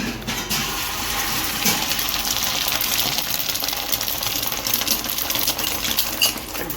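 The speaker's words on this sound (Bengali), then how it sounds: "ডিম এরম ফাটছে কেন চটপট চটপট করে?" Eggs fry in a hot pan, a dense steady sizzle with sharp spitting crackles and pops scattered throughout, close and alone with no talk.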